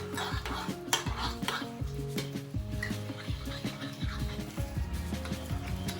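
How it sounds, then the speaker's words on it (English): Soy sauce and brown sugar stirred together in a bowl, a utensil clinking and scraping against the sides in quick, uneven strokes, close and fairly loud. "1 tablespoon of soy sauce, 2 tablespoons of brown sugar. Mix this together."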